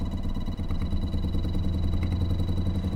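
A brushless-style magnetless attraction motor fed by capacitor pulse outputs drives a fan, its steady low rumble and buzzing vibration rattling the table it sits on, with a constant high whine running throughout.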